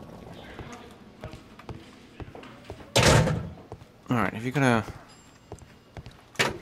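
A door in the Sherlock Holmes: Crimes and Punishments game bangs shut with a loud thud, followed by heavy creaking and knocking, while someone talks over it.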